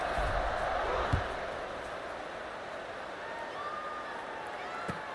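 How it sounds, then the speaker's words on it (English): Crowd noise in a football video game after a score, a continuous broad roar of cheering fans filling the background evenly, with faint swelling tones and a couple of soft thuds. "this crowd is buzzing after that last score"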